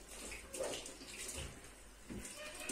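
Tap water runs steadily while produce is rinsed in a kitchen sink, a continuous moderate splashing with slight surges as the items are moved under the stream.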